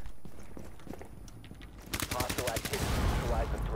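Rapid automatic gunfire in Rainbow Six Siege bursts in after a quieter start, a fast loud string of close shots that holds to the end, with faint voices underneath.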